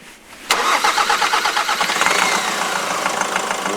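A diesel Nissan X-Trail engine cranks and catches abruptly, then settles into a loud, rough idle with a rhythmic knocking pulse.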